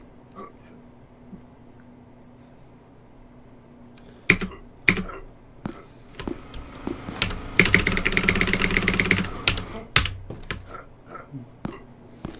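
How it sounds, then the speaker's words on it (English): Typing on a new, loud computer keyboard during a game speedrun, with scattered single clacks giving way to a dense burst of rapid keystrokes before tapering to sparse presses. "Yes, this is my new keyboard"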